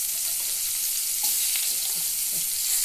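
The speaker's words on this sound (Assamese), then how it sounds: "মাছ ফ্ৰাই কৰা তেলখিনিত মই এতিয়া ইয়াত দিম পিঁয়াজ দিলোঁ" Onions dropped into hot oil left from frying fish for an Assamese fish curry, giving a steady, loud, hissing sizzle throughout with faint stirring scrapes and no talk.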